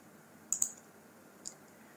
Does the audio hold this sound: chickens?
no